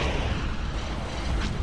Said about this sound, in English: Yeah, these big cannon shots, they can't hurt these small ships.